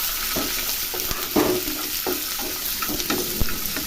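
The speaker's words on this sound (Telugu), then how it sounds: "ఆ ఉల్లిపాయలు కొంచెం దోరగా అంటే కొంచెం ఎర్రగా కాగే వరకు వాటిని మనం వేపుకోవాలి" Onions frying in oil in a pan until they turn reddish, a steady close sizzle with soft stirring scrapes and occasional louder crackles, no voices.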